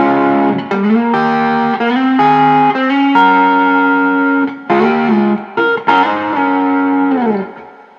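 An electric guitar plays sustained chords and single notes with a thick, saturated fuzz tone, ringing out loud and then fading at the end.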